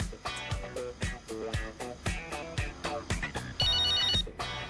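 A telephone ringing in a domestic scene, its tone repeating over music with a steady beat, loud and close.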